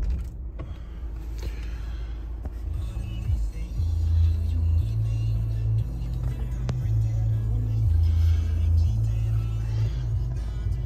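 Peugeot 3008 1.6 car starting up, with a few mechanical clicks before the engine catches into a low, steady idle rumble that continues close by, alone without talk.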